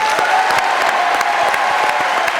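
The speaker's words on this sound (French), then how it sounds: "Applaudissements pour Sophie." Studio audience applause on a French television talk show, a loud continuous wash of clapping with sharp individual hand claps standing out and a faint steady tone underneath.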